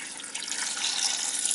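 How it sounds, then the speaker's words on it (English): Water pouring into a crock pot over beef bones for broth, a steady close splashing stream that grows slightly fuller as the pot fills, with no talking. "So I'm going to add as much water as it takes to cover everything."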